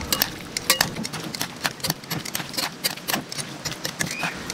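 A spoon stirs tomato and cucumber into dinakdakan, giving quick repeated scrapes and clicks against the bowl in a busy uneven rhythm, close and moderately quiet, with no talking.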